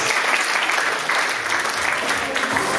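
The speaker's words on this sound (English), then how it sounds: "Let's give them a round of applause." Wedding reception guests applaud together, a dense, even clatter of many hands clapping that carries steadily from start to finish.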